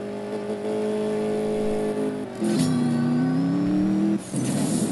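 A drag race car in the CSR2 mobile racing game revs hard through a gear change, with its engine pitch dropping and then climbing again as nitrous kicks in and it shifts up once more. The engine is loud and steady, with no talking.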